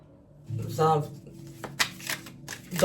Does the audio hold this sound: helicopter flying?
no